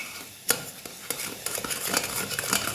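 Cooked dal being mashed and worked in a pot with a pav bhaji masher, giving repeated close scraping and knocking strokes over a faint sizzle, fairly loud with no talk.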